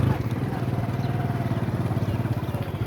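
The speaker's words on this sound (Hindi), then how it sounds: "यहाँ पर खड़ी करते हैं मोटर बाइक और उतरते हैं।" A motorcycle engine idles close by before the bike is parked, a steady low, rapid chugging pulse with no noticeable change in pace throughout.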